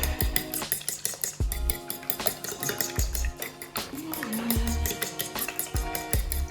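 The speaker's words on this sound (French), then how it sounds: "Alors on mélange ça comme une omelette." Eggs and milk are beaten together in a large dish, and the utensil makes a quick, rhythmic run of clinks and taps against the dish at close range, with no talking.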